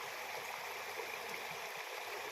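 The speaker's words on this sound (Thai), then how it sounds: "น้ำตกโกอิดกนะครับ" Steady rushing of a forest stream below a waterfall near Khao Yai in Chaom, Thailand, a dense continuous wash of flowing water close by with no voices.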